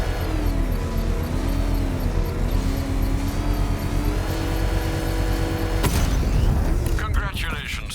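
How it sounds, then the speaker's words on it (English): In Batman: Arkham Knight, a power winch sets off a controlled bomb explosion: a sudden loud blast cuts through a constant droning engine and music bed partway through, followed by crackling debris. "I can use the power winch to trigger a controlled explosion."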